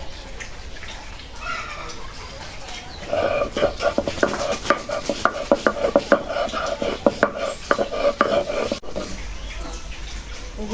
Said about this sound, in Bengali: এই যে আদা রসুন ছিলে ধুয়ে নিছি এখন বাইটে নেব